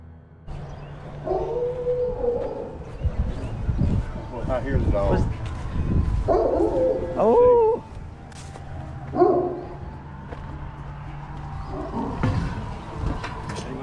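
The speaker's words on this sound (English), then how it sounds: "Lady dogs barking at you." Several dogs bark and howl in long, wavering calls at moderate distance outside a historic courthouse jail in Coweta County, over a steady low background hum.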